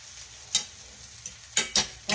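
Potatoes and onions stirred in a frying pan alongside tenderloin meat chops, giving a few sharp scraping strokes over a soft, steady sizzle, close and alone.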